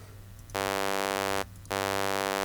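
A bright, buzzy band-pass filtered synthesizer tone sounds in two sustained bursts separated by a short gap, harsh and piercing over a low hum.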